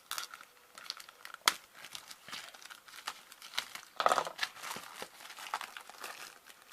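Plastic wrapping peeled off a horror-themed magazine crinkles and crackles close up, with irregular bursts of rustling and a couple of sharper tearing snaps over several seconds.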